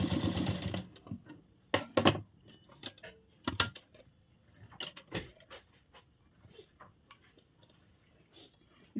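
A sewing machine stitching the shoulder seam of a blouse runs in short, uneven bursts of clicking and whirring, with pauses and handling noises between, fairly close but quiet.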